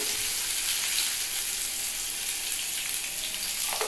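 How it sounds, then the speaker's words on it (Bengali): Bitter gourd fries in a thin layer of oil, giving a steady, close hiss of sizzling that holds evenly from start to finish with no talking. "এটাকে একটু হালকা তেলের মধ্যে ভেজে নিতে হবে"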